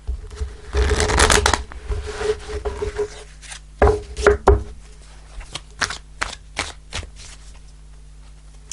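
Tarot cards riffled and shuffled close by: a long dense burst at first, then a series of sharp, separate snaps and taps.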